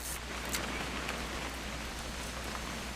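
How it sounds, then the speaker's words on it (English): Steady rain falling in the video game What Remains of Edith Finch, a constant even hiss of drops on surfaces with no voices, unchanging for the whole stretch. "It's gonna rain the whole weekend,"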